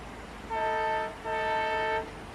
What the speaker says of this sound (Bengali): আর দেখুন ট্রেনটা সবুজ চা বাগানের পাশ দিয়ে কি সুন্দরভাবে আসছে।